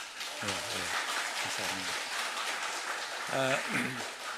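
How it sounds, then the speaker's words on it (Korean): A church congregation claps together during a Sunday worship service, a steady wash of applause that lasts throughout, with a few short bursts of voices rising above it. "우리 서로 옆 사람 보시면서 우리 격려 박수 한번 합시다"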